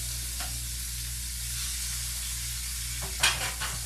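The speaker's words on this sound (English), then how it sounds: "And you want it to sizzle because you want it to get nice and brown" Pork chops sizzle steadily in a hot pan, a soft constant hiss with a brief louder crackle near the end.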